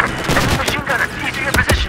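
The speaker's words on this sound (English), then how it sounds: "Mortar time." Mortar explosions and gunfire from Battlefield 4, loud booms and rattling shots layered over a battlefield din, with a player talking over the action.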